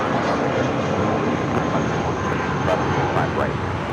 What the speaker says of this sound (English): That is JetBlue 1463 departing to Los Cabos on an A320